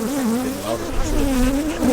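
Agitated honeybees in a queenless hive buzz loudly and close, a dense, wavering drone that fills the whole moment without any talk.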